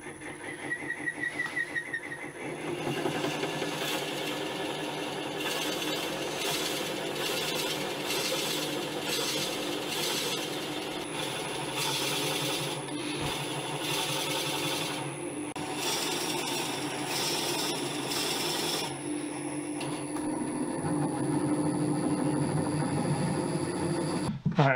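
A woodturning lathe hollows out a twisted wooden bowl, giving a steady, continuous whirring and scraping of the tool cutting into spinning wood. It runs at a constant level from start to finish with no speech.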